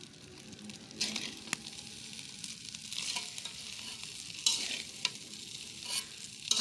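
Mashed rice and green chili frying in a wok, a continuous sizzle broken by repeated spatula scrapes and clacks against the metal.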